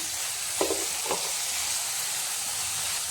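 Egg masala with curry leaves sizzles in a pan while being stirred, giving a steady frying hiss with a couple of brief scrapes of the spoon near the start.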